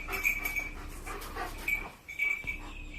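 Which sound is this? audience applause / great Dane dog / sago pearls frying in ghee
great Dane dog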